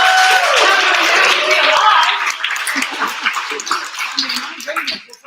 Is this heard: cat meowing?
no